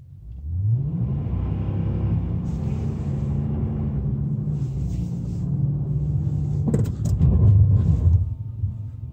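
An Infiniti with its VDC stability control switched off accelerates on a snowy road, engine rumbling and revving steadily for about nine seconds, swelling louder near the end; no talking.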